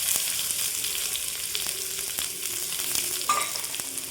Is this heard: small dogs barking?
no